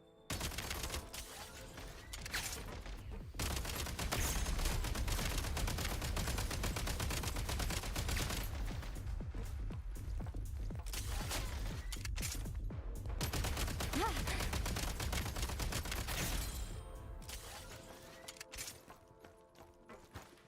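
Dense, continuous gunfire roars in Genshin Impact's Snezhnaya region, with rapid shots layered over a loud battle din for most of the span before trailing off into scattered reports near the end.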